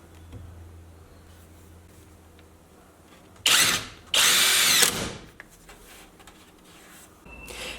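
A power drill drives screws through drywall into studs in two short, loud whirring bursts close by, separated by a brief gap, with quiet surroundings before and after.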